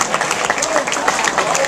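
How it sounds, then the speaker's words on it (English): Crowd at a Memphis TouchDown Club event giving a short burst of clapping applause, dense and moderately loud for under two seconds. "So let's give Alabama a round of applause."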